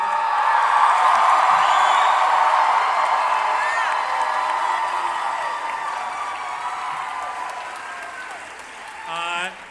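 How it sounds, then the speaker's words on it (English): A Comic-Con panel audience cheers and applauds loudly in a big hall, a dense roar of clapping and whoops that slowly fades, then swells briefly again at the end. "Can you give them a big cheer?"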